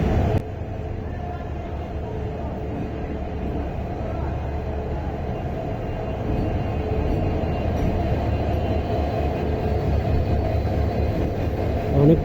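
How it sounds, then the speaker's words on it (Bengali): A train pulls into Kamalapur railway station, a steady low rumble of rolling wheels and rail noise that holds throughout and swells slightly toward the end, with faint voices in the background. "ট্রেন আসতেছে।"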